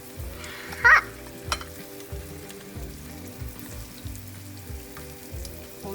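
Battered shrimp tempura frying in hot oil, a steady close bubbling sizzle with one brief sharp spike early on and small pops throughout.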